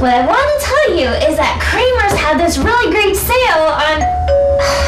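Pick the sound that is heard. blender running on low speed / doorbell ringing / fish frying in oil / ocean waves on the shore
doorbell ringing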